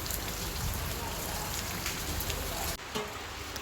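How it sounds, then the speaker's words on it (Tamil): Steady rain falls on a rainy day, a dense continuous hiss of drops striking surfaces nearby, even and unbroken apart from a brief dip near the end, with no voices. "மழை வருது"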